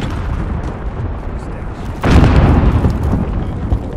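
A frag grenade explodes in the Call of Duty Warzone video game: one sudden, loud, rumbling blast halfway through that decays slowly over a low background of game noise.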